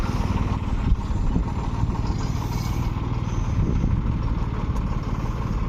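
A tractor engine running steadily nearby, a loud, rough low rumble with a clattering mechanical texture, constant throughout with no pauses.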